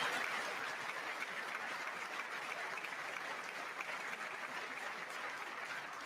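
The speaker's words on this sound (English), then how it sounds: "I wasn't sure if anybody even on this side was going to applaud for that." Sustained applause from the audience in the chamber during a presidential State of the Union address, a steady wash of many hands clapping, fairly distant and even in level from start to finish.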